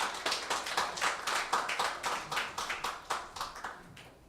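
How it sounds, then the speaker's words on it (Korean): A conference audience claps to welcome a keynote speaker; a fairly small crowd, with individual claps standing out in a brisk, even rhythm near the listener, fading slightly at the end. "큰 박수 부탁드리겠습니다."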